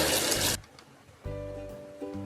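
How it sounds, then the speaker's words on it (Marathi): Water splashes and runs while rice and poha are washed for idli batter, a loud gush at first, then quieter trickling and a steady pour of water filling a vessel, with no talking. "आता तांदूळ आणि पोहे स्वच्छ दोन ते तीन पाण्याने धुवून घेऊ"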